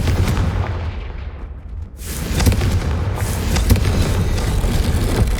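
Confringo fire spell blasts in Hogwarts Legacy, a series of loud booming explosions over a dense roaring game soundscape, with a brief dip before the blasts resume.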